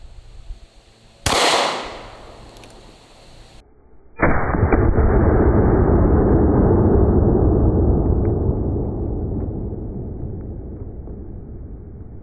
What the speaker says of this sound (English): Shooting it out of the Ruger 57.